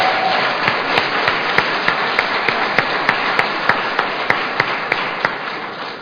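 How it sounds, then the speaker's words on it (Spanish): A church congregation claps during a Sunday morning service, sharp claps landing in a steady even beat over a constant wash of crowd and room noise. "Los que estén bendecidos, prosperados y en victoria, denle un fuerte aplauso al Señor en esta mañana"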